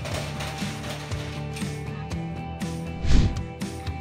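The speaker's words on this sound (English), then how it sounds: "it will start closing the shutter" An ATM room's rolling metal shutter rattles and clanks steadily as it closes, with a rhythmic mechanical grinding and a louder clunk near the end.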